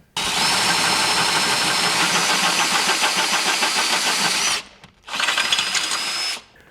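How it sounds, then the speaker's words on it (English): A loud power drill whines continuously for several seconds while drilling a metal front suspension arm on a Can-Am vehicle, pauses briefly, then runs again in a second, shorter burst. "our next step is to actually drill the arm."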